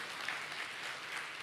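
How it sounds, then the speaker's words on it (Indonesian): A church congregation applauding with soft, continuous, fairly distant clapping that holds even for a moment and has no voices over it. "Tepuk tangan buat Tuhan."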